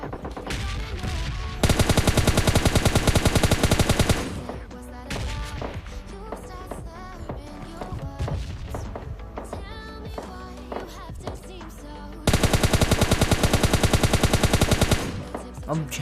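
Automatic gunfire in the mobile battle-royale game PUBG Mobile Lite, with long loud sustained bursts of rapid shots and shorter volleys over a busy layer of game sound effects, close and dense throughout.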